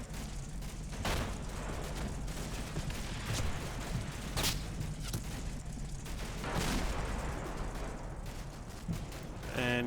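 Small arms fire crackles in a World War II Normandy combat video game, with scattered sharp shots and thudding bursts over a rumbling background of distant battle.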